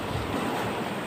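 Gentle ocean waves at low tide in Linapacan, Palawan, a steady soft wash of surf with a broad hiss and faint wind, continuous and even with no voices.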